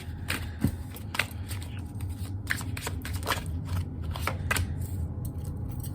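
Tarot cards shuffled by hand in a series of crisp riffling bursts and snaps at close range, repeating irregularly over roughly six seconds with no talking.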